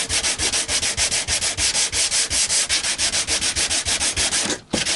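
Sandpaper rubs hard and steadily over the thick poly finish of a cheap Chinese electric guitar neck, in fast, even back-and-forth strokes, loud and close with no talking.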